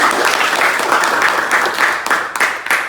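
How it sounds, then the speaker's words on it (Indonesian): A classroom of vocational high school photography students applauds two classmates, a dense burst of clapping from the room that carries steadily for about three seconds on its own. "Tepuk tangan dulu untuk mereka berdua."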